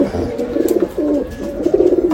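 A Rampuri pigeon coos close by in repeated throaty, rolling phrases, about three in quick succession, with faint background noise between them.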